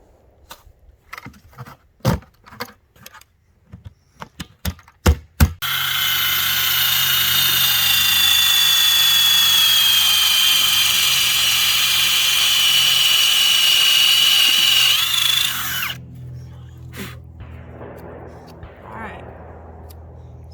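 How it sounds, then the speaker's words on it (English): A few sharp clicks and knocks, then a power drill bores into a maple tree trunk, whining steadily for about ten seconds at high speed, close and loud, before stopping abruptly. "So if I drill right here, the bark will not chip off"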